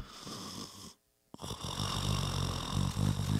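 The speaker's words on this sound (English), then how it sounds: "I can handle that snore." Heavy snoring in a few rough, rattling breaths close to the microphone, with a brief silent gap before the next long, loud snore begins.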